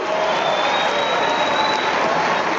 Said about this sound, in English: In the middle of this cheering crowd is a man from El Salvador who is wiping his eyes